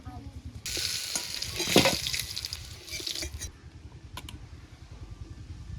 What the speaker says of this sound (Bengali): আলুটা আমি হালকা হালকা লাল লাল করে ভেজে নেব